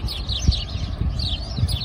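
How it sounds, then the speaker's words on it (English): Birds chirping in a botanic garden in Auckland, New Zealand in spring, with repeated short high calls over a low rumble of ambient noise and handling sounds. "You can hear the sound naman, diba? Ayan yung mga birds, oh."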